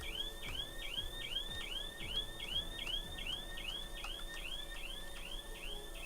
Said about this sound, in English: Yay, a car alarm's going off.